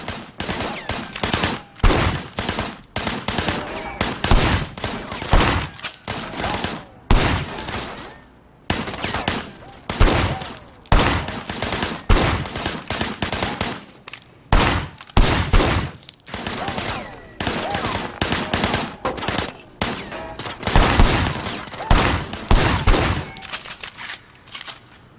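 Rapid bursts of gunfire in the action video game Sleeping Dogs, loud and close, firing in repeated volleys with short pauses between them across the whole stretch.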